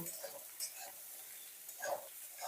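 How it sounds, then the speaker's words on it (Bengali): Vegetables lightly frying in oil in a wok for a vegetarian chikni greens chorchori, with soft sizzling and a few quiet stirring scrapes, faint and close. "একদম হালকা করে সবজিগুলো ভাজবো"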